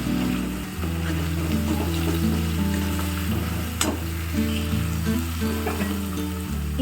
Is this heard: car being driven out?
no